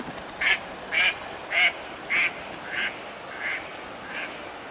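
Ducks at a nature reserve pond quack in a run of about seven loud, nasal calls, evenly spaced and fading slightly toward the end, close by over faint outdoor background.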